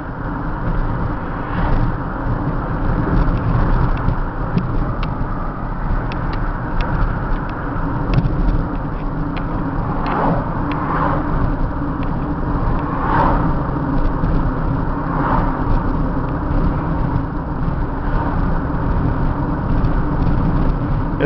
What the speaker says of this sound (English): And we're rolling along almost 50 miles an hour.